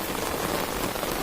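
Heavy rain falls at night in a steady, dense hiss that stays loud and even throughout, with no voices.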